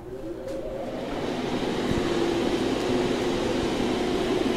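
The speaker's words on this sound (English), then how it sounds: "All of the fans are connected, so that is the noise you're hearing." Several cooling fans inside a CNC controller enclosure run together as a steady, even whoosh and hum, close and continuous throughout with no talk.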